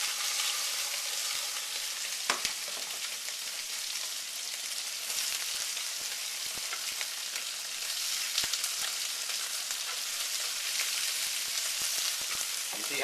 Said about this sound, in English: this is a non-stick jumbo fryer. If you get the pan hot and then you add oil, this is not sticking.